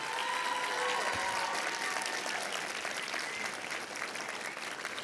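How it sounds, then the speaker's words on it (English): Audience applause at a demo day event for a cohort of entrepreneurs, a steady dense wash of clapping from a sizable crowd that holds for the full duration with only a slight fade toward the end. "could we just give a round of applause for all of our Baltipreneurs"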